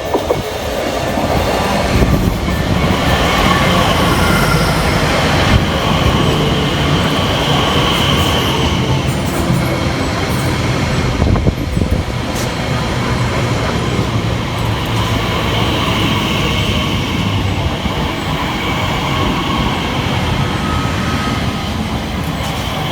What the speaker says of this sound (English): there's 345041, departing with the 1042 Elizabeth line service from London Paddington